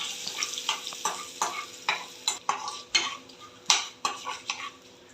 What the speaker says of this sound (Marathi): ढवळून घेते